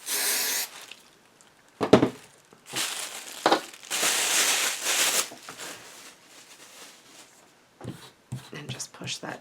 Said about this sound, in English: I'm going to spray this corner again